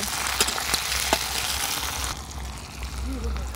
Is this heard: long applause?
no